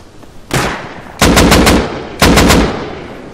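Gunfire in the video game Rust: a single loud shot followed by two rapid bursts of automatic fire, each with three or four sharp close cracks and a trailing rumble, no talk over them.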